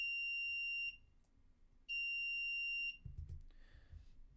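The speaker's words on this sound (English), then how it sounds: "you will definitely hear this as soon as I run it. So be prepared for a loud buzz." A buzzer driven by Raspberry Pi pins gives three loud, piercing tones, each about a second long and separated by short gaps, followed by faint clicks and a low rumble.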